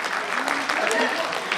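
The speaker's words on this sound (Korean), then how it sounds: "박수 함께 보여주세요." An audience claps at a political book-launch celebration, a brief burst of steady, moderately loud applause with a speaker's voice over it.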